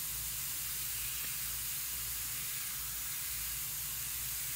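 An airbrush sprays watercolor paint with a continuous, even airy hiss, faint and steady throughout, and no voices.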